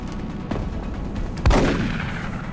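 Gunfire in the turn-based strategy game XCOM: Enemy Unknown, a single loud shot blast with a short rumbling tail over a low steady game background, no talking.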